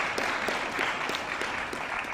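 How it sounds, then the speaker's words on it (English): An audience applauds steadily at a law moot competition final round, a dense wash of clapping that holds at an even level throughout. "I just ask everyone just a giant round of applause for all those groups"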